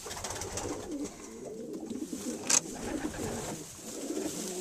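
Racing pigeons in a loft coo softly and repeatedly as a steady low murmur, with a brief louder flutter or call partway through.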